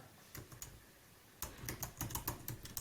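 Typing on a computer keyboard, a scatter of light close key clicks that starts sparse and then quickens into a denser, slightly louder run of taps, with no voices.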